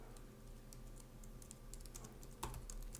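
Quiet, rapid clicking of a computer keyboard as a MongoDB insert command is typed, the keystrokes tapping irregularly over a faint hum with one sharper press near the end.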